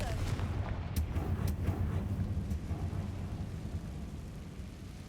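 A Confringo fire spell explodes in Hogwarts Legacy, a loud rumbling blast with several sharp cracks over the first two and a half seconds, then a sustained low roar that slowly fades.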